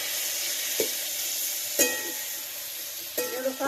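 Grated coconut and garlic roast in a pan for an eggplant masala, giving a continuous close sizzle broken by a few sharp stirring knocks against the pan.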